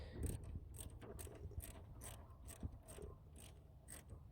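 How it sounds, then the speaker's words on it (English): A socket wrench ratchets on the negative battery terminal of a 1999-2004 Ford Mustang, giving a quiet, close series of evenly spaced clicks, about two per second. "So we'll just throw the socket wrench on there."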